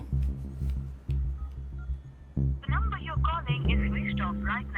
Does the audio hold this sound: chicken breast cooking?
no